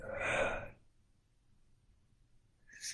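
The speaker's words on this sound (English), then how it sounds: "I don't know why I'm yawning all of a sudden" A man yawns aloud partway through leading a Chaplet of the Divine Mercy prayer, one drawn-out open-mouthed breath that fades into quiet, with a short breathy sound near the end.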